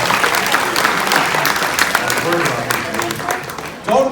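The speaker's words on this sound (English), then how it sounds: "Give her a big round of applause," Steady audience applause at a horror makeup show fills the room for several seconds, many hands clapping at once, with voices rising faintly under it near the end.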